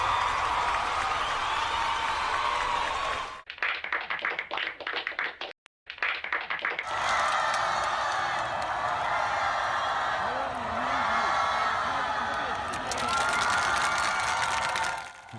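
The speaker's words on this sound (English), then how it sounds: "let's get some more applause here" Audience applause and clapping at a paleontology Q&A, steady and fairly close, with a brief dropout partway through before the clapping resumes and continues to the end.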